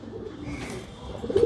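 Pigeons coo as a male chases a female, low throaty calls near at hand that swell louder toward the end.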